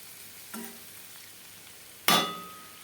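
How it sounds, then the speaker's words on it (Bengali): Fish and green chillies frying in a pan: a low sizzle, then two stirring strokes against the pan, the second one loud and sharp with a trailing hiss. "তো এবার আমি খুব ভালো করে ভাজা ভাজা করে দেব"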